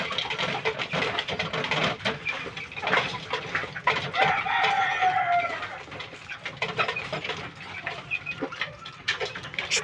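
A young gamecock stag crows and clucks close by, the calls repeating in loud bursts over a steady outdoor background.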